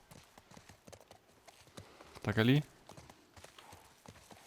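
Horse hooves clip-clop in The Last of Us Part 1, a short burst of near hoof steps and a brief whinny-like sound at the midpoint, under steady talk.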